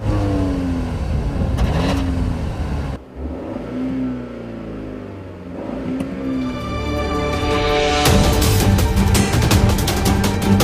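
A 2015 Acura TLX or Volvo S60 T6 engine revs hard on a track, rising through the gears with a brief dip at a shift, then a loud, strained surge near the end.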